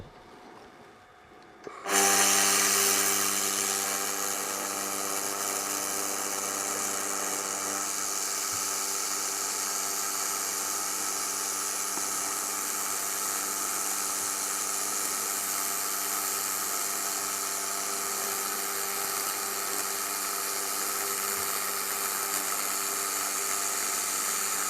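Xlaserlab X1pro laser welder welding thick stainless steel at full power: it starts abruptly and holds a steady, even hiss-like whine with a tonal hum for about twenty seconds, close and continuous.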